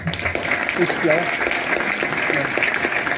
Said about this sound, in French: je vous demande d'applaudir encore